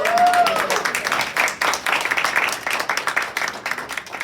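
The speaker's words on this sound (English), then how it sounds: "Let's give him a big round of applause." Audience applause for Craig from 5 Star Moving and his wife at a morning real estate event, a steady burst of many hands clapping throughout, fairly loud and close, with a brief voice at the start.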